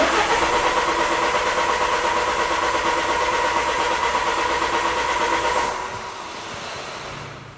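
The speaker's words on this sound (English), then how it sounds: "Now I'm going to crank the engine over" A car engine cranks over steadily on the starter during a no-start condition, a loud continuous rhythmic churning that runs for several seconds before cutting off and fading to quieter background.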